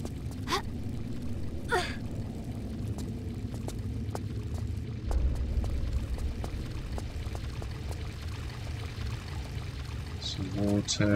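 Water pours steadily in the Tomb Raider IV game, a continuous rushing stream running throughout with a few short gasps and sharp clicks over it.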